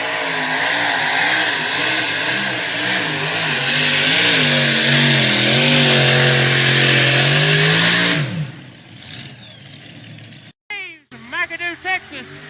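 A triple-engine big block Chevrolet pulling tractor at a farm show pull, loud sustained engine roar with rising and falling revs for about eight seconds, then cutting off as a voice comes over the PA.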